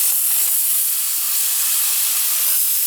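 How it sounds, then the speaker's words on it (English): A garden hose sprays water onto an outdoor AC unit, a steady loud hiss of spray that continues without break and without speech. "give it a good hosing"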